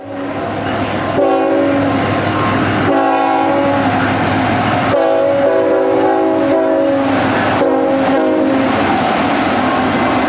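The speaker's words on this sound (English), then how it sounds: "ET44 units have a little quill when their horn is blown" A GE ET44 Tier 4 GEVO locomotive sounds its multi-chime air horn in a series of loud blasts, some long and some short, each fading out softly rather than cutting off, over rumbling train noise.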